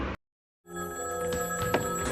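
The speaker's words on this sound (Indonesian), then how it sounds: "Seketika terdengar telepon berdering" A telephone bell rings steadily and clearly after a brief moment of silence, its sustained tone filling the space with no voices present.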